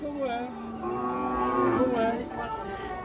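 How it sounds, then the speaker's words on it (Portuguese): Calves mooing at a cattle market in Caruaru, Pernambuco, Brazil, several overlapping drawn-out bawls from close by, loud and continuous with no talk. "Olha a bezerrada que tá aqui na feira hoje."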